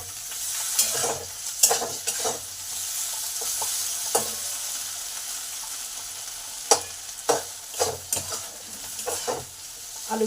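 Potatoes fry in a pan with a faint steady sizzle, punctuated by repeated scraping stirs of a spatula, several close, sharp strokes clustered toward the end.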